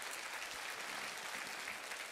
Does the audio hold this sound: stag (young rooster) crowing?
no